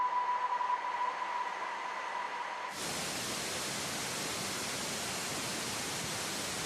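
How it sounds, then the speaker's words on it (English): White noise standing in for the sound of a dead cell: a quiet tonal hum gives way abruptly to a steady, even broadband hiss that fills the rest of the clip. "if you look at a dead cell, for instance, you will effectively hear something like a white noise"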